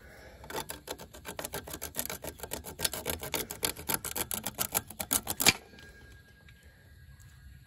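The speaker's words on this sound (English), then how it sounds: "I'm about to cut this belt off." A tight drive belt is cut off a 2004 Toyota Camry engine, giving a fast run of close, crisp snipping clicks that stops abruptly, then a quiet stretch.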